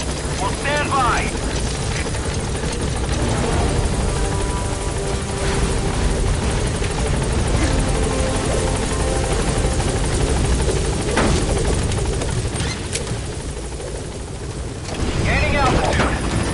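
The Pequod helicopter from Metal Gear Solid 5 roars steadily as it lands, a loud continuous rotor drone with radio talk over it.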